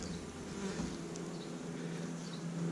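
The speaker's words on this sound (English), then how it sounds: "that is just a beautiful colony of bees" Honeybee colony buzzing on a frame during a hive inspection, a dense, continuous close-up drone of many wings humming at steady volume.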